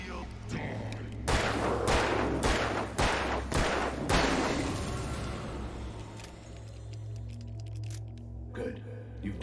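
Gunshots in the Alan Wake video game: a rapid series of sharp, loud shots fired in quick succession over a low droning ambience, then fading into echoing tails.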